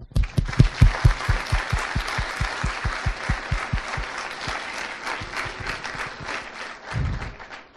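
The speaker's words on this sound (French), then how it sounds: "C'est juste de les applaudir un instant avant que je commence à parler." An audience applauds students before a talk on prospective ergonomics and innovation; it opens with strong rhythmic clapping in unison that loosens into a looser, dense wash of hands, with a final burst near the end.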